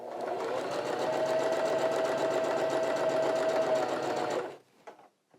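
A sewing machine runs steadily, stitching thin jersey fabric with a ballpoint needle, a close continuous buzzing whir for several seconds that stops abruptly, followed by a few faint clicks and handling noises.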